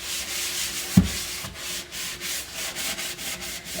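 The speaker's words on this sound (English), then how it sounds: "let you listen to the scouring sound" A homemade scrub of borax, salt and baking soda being rubbed over a stainless steel surface, a close and continuous gritty scouring swish that rises and falls with each stroke, alone with no voices.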